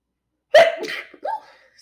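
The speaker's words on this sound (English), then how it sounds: "So y'all heard me sneeze. I sneezed." A single loud sneeze bursts out, followed by a short breathy aftersound and a brief quieter vocal noise, then near silence.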